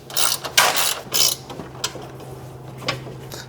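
A wrench loosens a bolt on a light bar bracket of a 2024 Ford F-150, giving a few close, sharp ratcheting bursts with short pauses between them, then lighter clicks.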